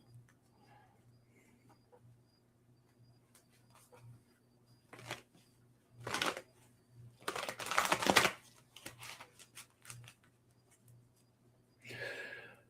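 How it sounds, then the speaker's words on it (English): Tarot cards shuffled and pulled by hand, a quiet room-level riffle and slide in a few separate bursts with soft rustles between, over a low steady hum. "I'm going to pull a couple tarot cards."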